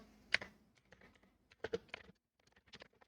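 Keys clack on a computer keyboard in short, irregular bursts of quick taps separated by brief pauses, close and soft, with no speech.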